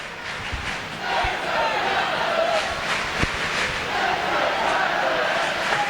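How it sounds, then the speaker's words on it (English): Ice hockey crowd at a Nottingham Panthers home game against the Sheffield Steelers, chanting to rouse the Panthers as a steady, dense roar fills the arena with a few sharper shouts rising above it. "Crowd trying to get the Panthers into it."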